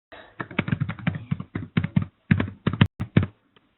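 Computer keyboard typing close to the microphone, a rapid run of about a dozen sharp key taps in irregular bursts with short pauses, alone without talk.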